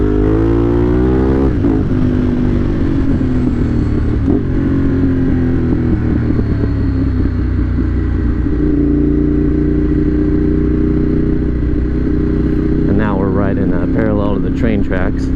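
A motorcycle engine blips and drops revs while downshifting into first gear for a turn, then rumbles on through the corner and climbs again, with a rider talking over the engine throughout.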